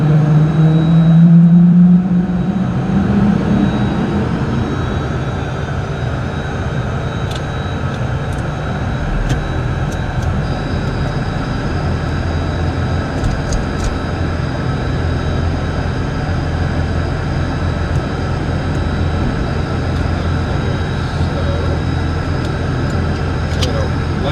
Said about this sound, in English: Got ignition, got boost pressure, got a light off.